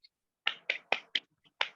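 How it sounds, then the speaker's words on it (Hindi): A handful of sharp, separate claps or snaps ring out one by one over an online Zoom session, five or six crisp hits spaced irregularly across a couple of seconds with silence between them. "दोस्तों एक जोरदार तालियां होनी चाहिए।"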